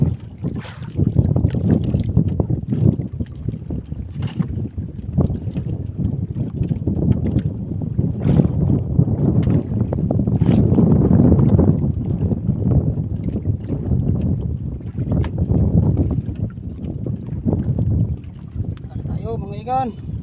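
Wind gusting over a small fishing boat at sea, a steady loud roar and buffeting across the whole stretch with brief bumps, while a voice talks faintly now and then.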